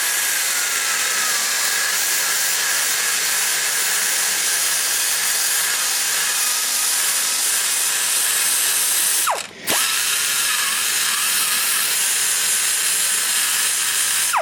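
Steady high-pitched whine of a die grinder porting Chevy TBI truck cylinder heads, running continuously and loud, with one brief drop in speed partway through before resuming.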